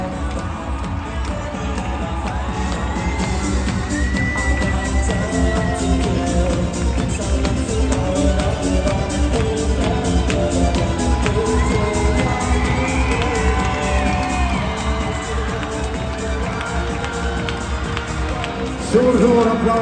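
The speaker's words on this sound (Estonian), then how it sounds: "Suur aplaus" A large crowd at a hobby horse quadrille show keeps up steady, sustained applause and cheering, broad and continuous with some shouts, ending in a louder swell.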